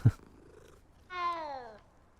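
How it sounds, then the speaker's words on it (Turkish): In Hogwarts Legacy, a multicoloured cat gives a short, close purring trill lasting about half a second, just after a faint click. No voices are heard. "Bak nasıl mırlıyor"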